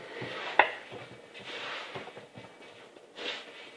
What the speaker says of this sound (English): I am now incorporating with a spoon